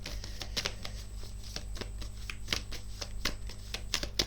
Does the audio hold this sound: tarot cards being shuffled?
yes